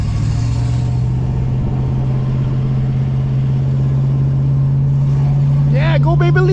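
A 1965 Ford Mustang convertible cruising in Montreal, its engine droning loud and steady, then revving and rising in pitch as it accelerates toward the end, with voices talking over the engine noise.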